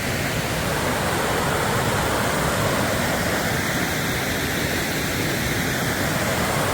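Steady, loud roar of a river waterfall on a wilderness trail along the Pacific Crest Trail, broadband rushing water filling the whole stretch without pause, close by and alone with no voices.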